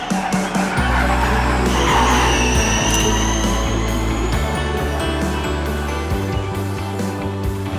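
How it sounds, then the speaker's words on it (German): Formula E electric race cars charge flat out into the first corner at the Zurich e-Prix, a loud close whine of electric motors with squealing tyres, one car rising and sweeping through while others follow, steady and continuous. "den Fahrern zuzuschauen, wie die hier mit Vollgas in Kurve 1 fahren"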